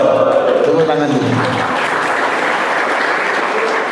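Applause from an inmate audience during a religious lecture at a prison, a dense wash of clapping that starts under a fading voice and then continues steadily and fairly loud for several seconds.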